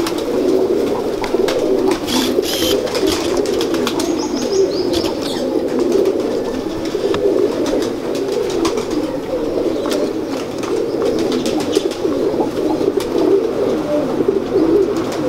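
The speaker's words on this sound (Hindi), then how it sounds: "फिरोजपुरी कबूतर दिखाएं आपको" Ferozpuri pigeons coo continuously, with low, throaty calls overlapping close by. There are occasional faint rustles and chirps, and no voices.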